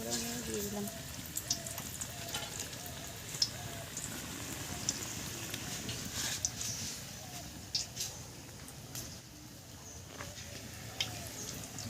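Rounds of cabbage pakora batter fry in hot oil, giving a dense, steady crackle and spatter with sharper pops scattered throughout, close and fairly loud.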